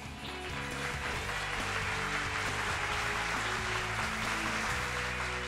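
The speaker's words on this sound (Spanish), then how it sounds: "Un aplauso para ella" A studio audience applauds the winner of a youth quiz contest, a dense, steady wash of clapping that holds at an even level for the full stretch, with no voices over it.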